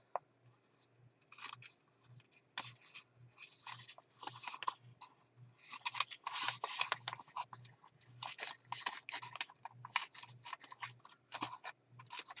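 Scissors trim paper for a sewn art journal, a series of small crisp snips and crunchy cuts in uneven bursts, close and quiet against a near-silent room with a faint steady hum.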